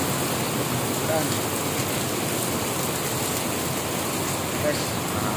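Typhoon Ulysses rain falls hard and steadily, a thick, uniform hiss that stays loud and near for the whole stretch, with no clear speech over it.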